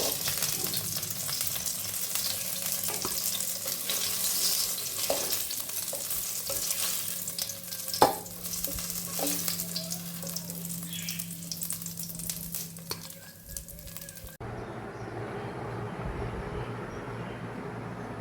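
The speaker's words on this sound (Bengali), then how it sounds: "দেখো এইভাবে আমি সমস্ত পকোড়াগুলো ভেজে নিচ্ছি।" Puffed rice (murmura) pakoras deep-frying in hot oil in a kadai, with a continuous close crackling sizzle, occasional stirring clinks and a sharp knock midway, quieting near the end.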